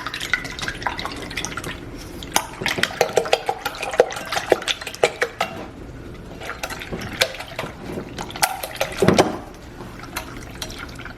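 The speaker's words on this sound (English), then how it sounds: "9, I think we'll do 9 eggs, and whisk it" Nine eggs being whisked in a bowl, with rapid, irregular clicking and sloshing strokes close up, some louder clinks of the whisk against the bowl, no talking.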